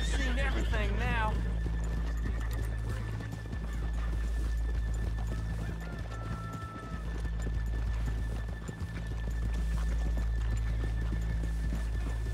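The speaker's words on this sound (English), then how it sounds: "A lot of horses." Horses in the video game Red Dead Redemption 2, with a whinny near the start followed by steady hoof clip-clop and stable ambience that runs throughout at moderate level, with no spoken words.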